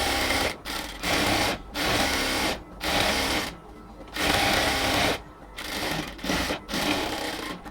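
A sewing machine stitching a seam on a cotton salwar runs in repeated whirring bursts of about a second each, with short pauses between them, close and loud.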